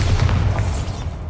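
A Bombarda blasting spell from Hogwarts Legacy goes off as a single loud, deep boom that rolls and fades over about a second.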